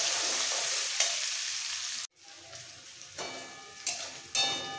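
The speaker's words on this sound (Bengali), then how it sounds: "পেঁয়াজটাকে এবার একটু লাল করে ভাজবো।" Chopped onion fries in a pan for a katla fish curry, giving a sizzling hiss that is cut off abruptly halfway, then returns quieter with a few clattering stirring scrapes; no one speaks.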